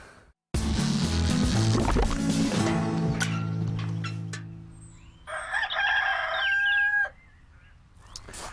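Roosters crow loudly on a farm in the morning, a long cock-a-doodle-doo followed by a second, higher crow, with clucking fowl and other birds in the background.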